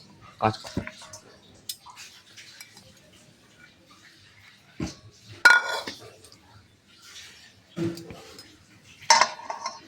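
Soaked sago being stirred in a bowl for sago pakoras, heard as scattered clinks and scrapes of a spoon against the bowl with short pauses between, under intermittent talk.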